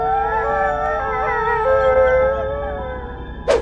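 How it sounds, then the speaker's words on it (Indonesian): A dog howls in long, sustained, wavering tones with layered pitches, loud and clear, fading toward the end before a short sharp noise cuts in. "keberadaannya ditandai dengan lolongan anjing"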